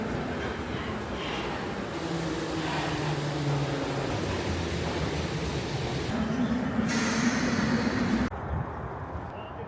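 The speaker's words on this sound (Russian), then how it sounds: "Посадка окончена, поезд отправляется." A passenger train pulls out of a station before dawn, bound for Vyborg. A steady rolling rumble carries a rising, whining tone that swells near the end, then the sound cuts off abruptly.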